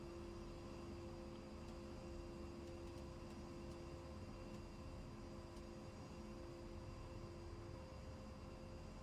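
An A-10 jet in the DCS flight simulator idles on its own engine power with the APU shut down, a faint, steady turbine whine and low rumble holding unchanged with a thin tonal hum.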